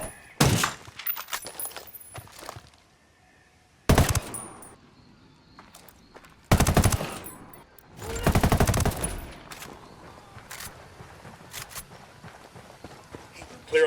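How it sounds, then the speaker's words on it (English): Gunfire in the game Ghost Recon Wildlands, several sharp bursts of shots spaced by quieter gaps filled with faint footsteps and movement, loud and close. "Opening fire on these fuckers."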